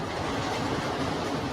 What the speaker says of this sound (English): It's terrible that a superhero has to take the train.